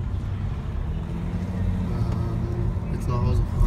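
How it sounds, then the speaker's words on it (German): Car driving slowly around a golf and beach resort with villas, a steady low engine and road rumble running throughout, with people talking over it. "wir fahren jetzt gerade hier rum"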